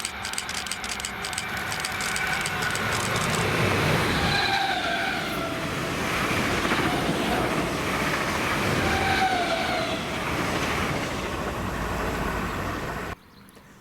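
A Royal Mail class 325 electric multiple-unit mail train rolls past at Carluke, a sustained close rush of wheels and rattling wagons with squealing flanges, holding loud for about thirteen seconds before cutting off abruptly.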